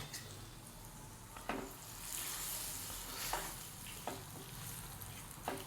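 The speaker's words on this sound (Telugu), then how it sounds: "ఇప్పుడు వేరే గరిటె తీసుకొని కలుపుతా" A ladle stirs a thick pickle mixture in a pot, giving a steady soft scraping and sloshing texture with a few sharp clinks against the vessel, close and quiet.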